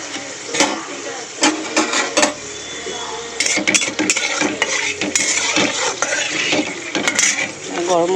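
Whole garam masala spices hitting hot oil in a wok for chicken curry, with crackling sizzle mixed among clinks and scrapes of a utensil against the pan, close and busy throughout.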